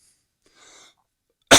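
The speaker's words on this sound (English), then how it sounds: "Sorry for the coughing" A single sharp, loud cough bursts out near the end after a long stretch of near silence and faint rustling.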